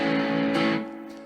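An electric guitar runs through a Boss DS-2 Turbo Distortion pedal, with a sustained, buzzy distorted chord ringing out that swells briefly, then fades as it decays.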